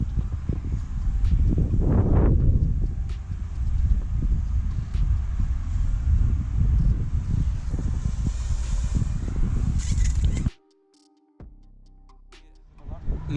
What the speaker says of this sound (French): Pourtant on a du vent là.